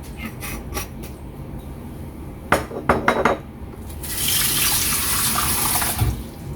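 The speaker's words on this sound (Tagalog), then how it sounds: "Lagyan na po natin ng konting tubig lang po siya." Metal dishes and utensils clink and clatter in a kitchen, then water pours steadily from a tap into a pot for pinakbet, a loud rushing stream lasting several seconds.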